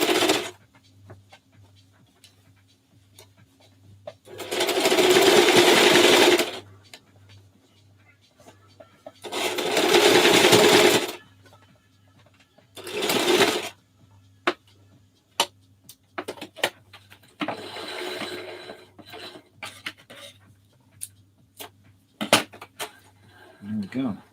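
Bursts of a home sewing machine stitching fabric, three separate runs of a few seconds each, close and fairly loud, with quieter handling clicks and taps between them.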